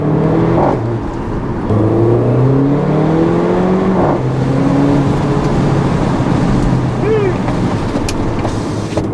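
Engine of a 2015 Mercedes-Benz GLA 45 AMG climbs in pitch, drops sharply at two gear changes and climbs again, loud and continuous from the cabin with a faint whine and click later on.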